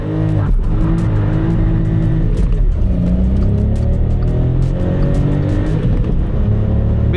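A small Volkswagen Up city car with a Stage 2 tune pulls away hard, its engine droning loud and close, with tyre squeal as it accelerates and no voices.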